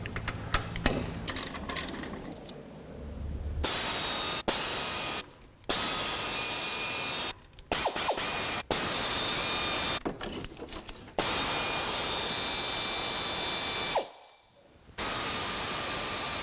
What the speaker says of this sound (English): we're going to remove these 10mm bolts around the pan